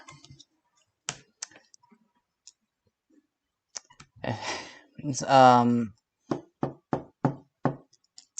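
Keyboard typing during a tabletop role-playing session, a few scattered sharp key clicks and then a quicker run of taps near the end, with brief voices and a gasp in between.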